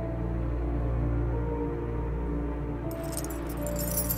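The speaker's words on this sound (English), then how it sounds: "Stupid keys. One of these has to be the right one." Keys jangle in the horror video game The Mannequin as someone fumbles through a ring for the right one, a steady metallic rattle running under a low room drone and growing brighter and busier near the end.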